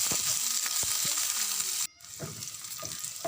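Five whole-cut onions sizzle with salt in a pan, a steady bright frying hiss with occasional soft stirring knocks, broken by a brief near-silent gap partway through before the sizzle returns.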